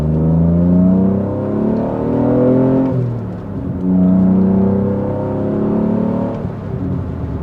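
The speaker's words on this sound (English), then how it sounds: "just give that just a little few revs" Alfa Romeo GTV V6 engine revving up in a few rising and falling blips, the deep harmonic drone swelling and easing back twice, loud and close, with no talking.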